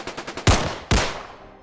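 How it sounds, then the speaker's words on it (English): Gunshots echo inside a warehouse: a few quick light pops, then two heavy blasts about half a second apart, each trailing off in a long reverberant decay. "The sound of gunshots echoed throughout the warehouse"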